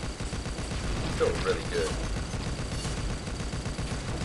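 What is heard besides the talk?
Bigby oven weapon firing in video game Pixel Gun 3D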